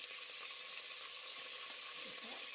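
Vegetables, including leeks and carrots, frying in olive oil in a clay pot: a steady bright sizzle throughout, close and even, with faint stirring, no talk.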